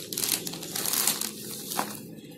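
A plastic toy bag is torn open with crisp, close crinkling and crackling in quick bursts, loud at first and then easing, with no voices.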